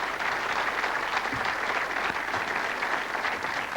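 Studio audience applause on a television quiz show, a loud, even roar of many hands clapping continuously throughout with no talking.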